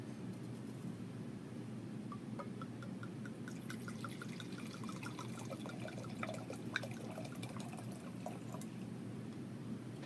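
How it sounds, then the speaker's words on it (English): Bodega Septima Malbec, a 100% Malbec red wine from Mendoza, is poured into a glass, giving a faint, soft trickling and gurgle over quiet room noise with no talking. "So let's go for the first pour."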